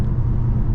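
A 2011 Mercedes S550 rolls along the road with a smooth, low engine and road rumble heard from inside the cabin, steady and unbroken for a brief moment with no talk.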